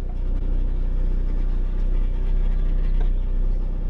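A Buick rally car just back from a CV axle repair rumbles low and steady as it pulls out of a garage, its engine droning close with faint mechanical rattles and no voices.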